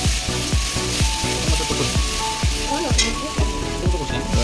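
Onion and spices cook in a pan while a utensil strikes and scrapes it in a quick, regular rhythm. Soft frying sounds run underneath the strokes, close up and with no voices.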